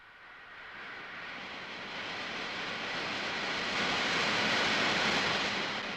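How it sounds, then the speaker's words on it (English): Compressed air jet blasting from a nozzle, a loud, steady broadband hiss that swells gradually and holds, with no voices. "When the compressed air jet is turned on"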